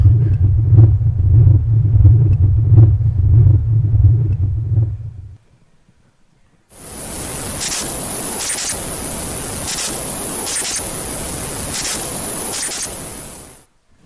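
Recorded vibrations of yeast cells captured via microcymatics: first a low, throbbing rumble with soft rhythmic pulses, then a brief gap, followed by a hissing noise topped by a sustained very high-pitched whine with periodic pulses.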